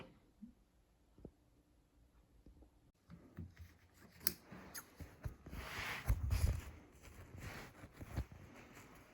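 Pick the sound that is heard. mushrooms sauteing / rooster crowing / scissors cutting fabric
scissors cutting fabric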